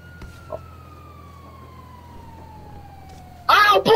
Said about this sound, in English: The ambulance is still going.